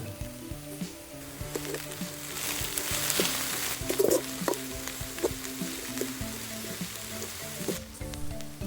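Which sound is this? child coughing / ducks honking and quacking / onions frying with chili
onions frying with chili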